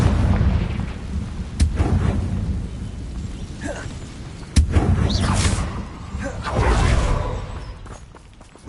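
Confringo explosive spell blasts in Hogwarts Legacy, two sharp cracks followed by rumbling booms and whooshing bursts, over a low roar of game ambience.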